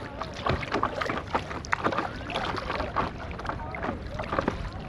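Rowing boat on the lake at Pokhara, with steady water lapping and paddle splashes close by, broken by soft knocks and some wind noise across the whole stretch.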